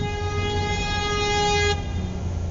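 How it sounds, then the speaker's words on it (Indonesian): Loud, steady horn blast from a passing vehicle on a busy road, a sustained tonal honk lasting about 1.7 seconds over low traffic rumble that continues afterward, staged as a night-time horror sound effect. "Mulai banyak mobil yang berseliweran."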